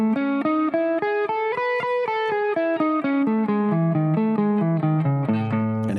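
Electric guitar running a major scale pattern with two notes per string, picked in a steady stream of evenly spaced single notes. The line climbs and then descends, with a clear, upfront tone and no voice.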